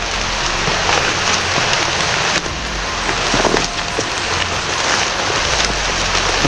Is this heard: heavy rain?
yes